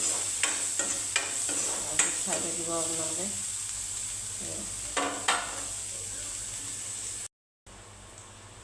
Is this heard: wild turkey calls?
no